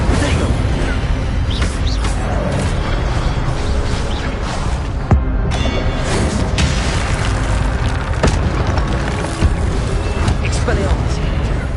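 Heavy booming spell blasts from the Incendio fire charm in Hogwarts Legacy roar continuously with dense game combat noise, a few sharp impacts punching through the steady loud rumble.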